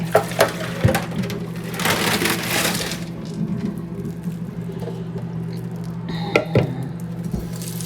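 Leftover food is poured out of a bowl during a room cleanup, giving a burst of wet, crushing, sloppy splashing and pattering, followed by quieter dish clinks and a couple of sharp knocks.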